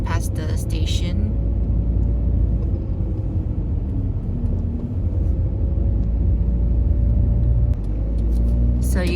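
A car drives through city streets past the station in Pyeongtaek, South Korea. A steady low engine and road rumble continues throughout, with faint clatter at the start and end.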